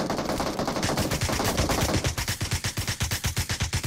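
M16 assault rifle on full auto in PUBG Mobile, loud rapid bursts of gunfire that settle into a steady, evenly spaced stream of close shots with no talk over them.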